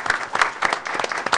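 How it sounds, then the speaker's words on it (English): Audience applause for students at a school board of education meeting, a close run of individual claps in an uneven rhythm from a modest group. "Please give them one more round of applause"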